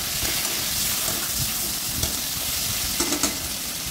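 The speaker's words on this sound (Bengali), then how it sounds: "এবার সর্ষের তেল দিয়ে মাছের মুড়োগুলো ভেজে নেব।" Fish heads fry in plenty of hot mustard oil in a pan, giving a steady close sizzle with dense crackling and a few louder pops near the end, no voices.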